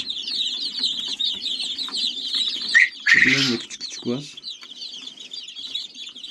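Australorp chicks cheep continuously in a coop, a dense, close chorus of high chirps, while a person talks briefly over them and a louder fowl call cuts in.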